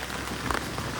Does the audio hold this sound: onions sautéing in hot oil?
no